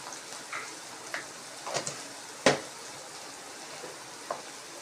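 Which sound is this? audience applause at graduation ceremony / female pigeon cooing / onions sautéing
onions sautéing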